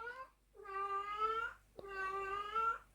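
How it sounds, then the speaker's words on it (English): A cat in heat yowls in long, drawn-out, tonal cries, two sustained wails with a short gap between them, heard alone and fairly close. "If you can hear something in the background, that is my cat."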